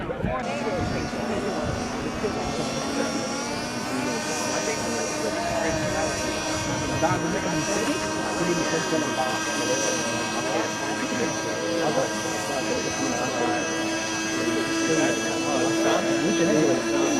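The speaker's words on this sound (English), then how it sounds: "We definitely, in my opinion, had the best sounding plane competition due to the beautiful harmonics of our unique twin-engine aircraft." Twin-engine model airplane at a competition, its engines droning steadily with rich layered harmonics and a rising whine near the end, loud and continuous throughout with no talk.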